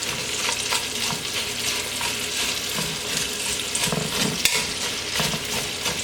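Onions cook down in a pan for French onion soup, giving a steady, dense hiss of frying with occasional soft stirring scrapes, close and continuous with no talking.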